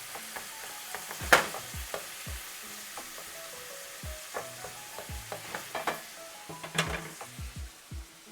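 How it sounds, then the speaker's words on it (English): Stir-fried pork with cumin simmers quietly in an overcrowded pan, a soft wet bubbling broken by scattered clicks and scrapes of a utensil stirring against the pan, with no talking. "It's not frying as much as I would have liked it to because I overcrowded it and I cooled down my pan too much and now it's released its liquid."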